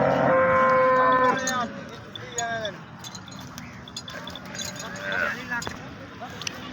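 A Nili-Ravi buffalo at the Arifwala cattle market gives a loud, drawn-out moo close by, followed by market bustle, scattered calls and people talking.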